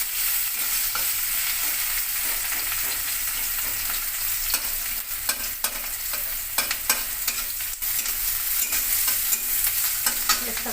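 Onion and a green chilli fry in oil in a wok, giving a dense, continuous sizzle close by, with frequent scraping and tapping from a stirring spatula and no voices.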